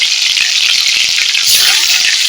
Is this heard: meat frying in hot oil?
yes